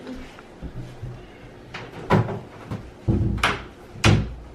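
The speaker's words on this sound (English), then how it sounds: "Why are you closing the door?" A door in a home being pushed shut, heard as a few sharp knocks and clunks spaced about a second apart, fairly close and alone over a quiet room.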